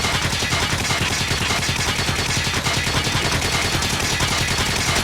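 Rapid, unbroken automatic gunfire from the UL736 electric light gun in a shooting video game, a dense, steady stream of shots lasting several seconds, loud and close, with no voices over it.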